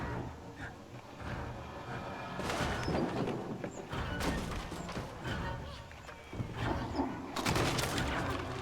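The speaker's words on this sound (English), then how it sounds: "He's shooting at the floor." Gunfire in the video game Little Nightmares 2, bursts of loud thudding shots with crashes and impacts in irregular clusters over a noisy game soundscape.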